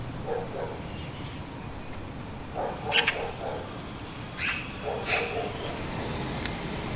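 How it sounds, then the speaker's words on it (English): Fledgling magpies chatter to one another from a garden tree, giving a few short, harsh bursts of calls spaced through a steady background hum. "The fledgling magpies are chatting to one another."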